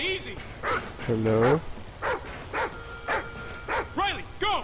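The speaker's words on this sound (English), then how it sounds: "Riley, what are you barking at?" Dog barking in a Call of Duty Ghosts military shooter, with a series of sharp, close barks and yips, one a longer whining bark, over background game noise.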